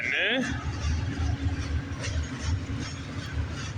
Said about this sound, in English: I know this is definitely the 149 from Montreal to Brampton.